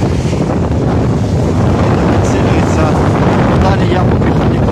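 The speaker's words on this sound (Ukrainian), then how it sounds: "Вітер підсилюється." Strong gusting wind buffets a phone microphone outdoors during a cyclone storm in Kyiv, a constant loud roaring rumble filling the whole clip with no pauses.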